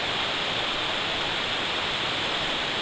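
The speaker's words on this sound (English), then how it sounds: "You hear the river in the background." A river flows near a camping spot in the forest, a constant dense rushing hiss of water that stays steady and fairly loud throughout, with no voices.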